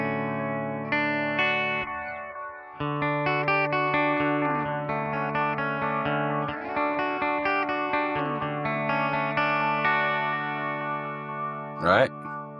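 An electric guitar runs through a Source Audio Encounter pedal with a modulation effect, sustained chords and notes wavering and shimmering, paused briefly near the start, with a sharp squeal near the end.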